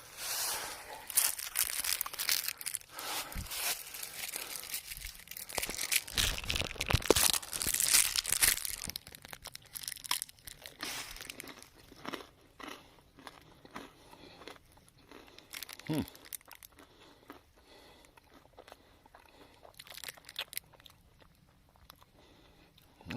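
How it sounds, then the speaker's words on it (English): A Violet Crumble honeycomb candy bar being bitten and chewed on a trail, with bursts of close crunching and crinkling of the wrapper, busiest in the first half and then sparser. "Delicious, shattering candy honeycomb. It's the way it shatters that matters."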